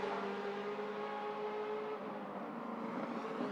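DTM touring race cars with carbon-fibre bodies over tubular space-frame chassis at Hockenheim in 2005, engines droning loudly and steadily at high revs, tones shifting slightly as they pass.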